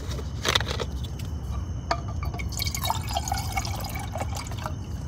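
Water poured into a pot inside a tent at a campsite, soft drips and trickling splashes close by over a steady low background hum, with a brief clink of metal.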